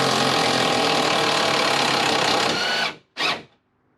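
Tack welding nuts onto seat mounts under a small Toyota truck, a dense loud buzzing crackle held for about three seconds, then a brief second burst before silence.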